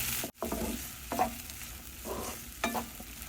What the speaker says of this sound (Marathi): मुगाचे स्प्राउट यात घालूया हे छानपैकी मिक्स करून घेऊया